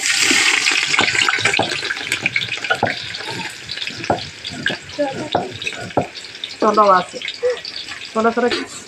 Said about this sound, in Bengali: তেল গরম হয়ে গেছে এখন পেঁয়াজ দিবে